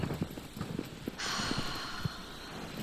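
Horse hooves in the video game Shadow of the Colossus clip-clop in a steady trotting rhythm, joined partway through by a constant airy wash of wind or ambience, with no speech over them.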